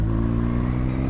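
A 2021 BMW R1250R motorcycle engine pulls steadily in 4th gear around 3000 RPM, a loud, continuous low droning rumble heard up close.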